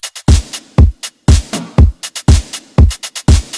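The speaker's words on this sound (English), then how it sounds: "the hi-hat pattern sounds like this." A hi-hat pattern played over a four-on-the-floor electronic beat of punchy kicks and a distorted, reverberant snare, with crisp, closely spaced ticks filling the gaps in a steady, loud, repeating groove.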